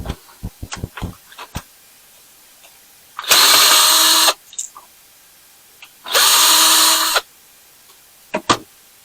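A handheld power drill backing screws out of a light fixture being scrapped, two loud steady whirring bursts of about a second each, separated by light clicks and handling taps of the screws and housing.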